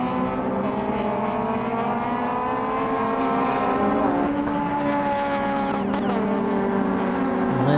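Honda Civic race cars lapping Snetterton circuit during a club race, several engines droning and overlapping at a distance, with rising and falling pitch as they pass and no voices.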